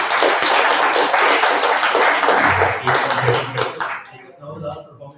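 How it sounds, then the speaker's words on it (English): An audience at a corporate anniversary stage event claps for a performer: dense, loud applause for about four seconds, then fading into a few scattered claps with voices mixed in. "Can we give her a round of applause?"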